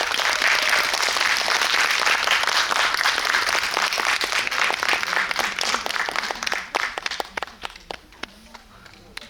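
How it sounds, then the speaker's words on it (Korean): Audience applause in a cinema auditorium as a director and an actor are welcomed on stage for a guest visit, a dense steady wash of many clapping hands that thins into scattered claps and fades out near the end. "큰 박수로 맞아주세요"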